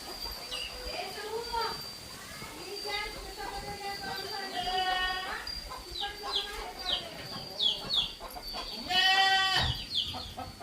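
Chickens cluck and cackle repeatedly nearby, with a few louder calls among them, while people talk in the background.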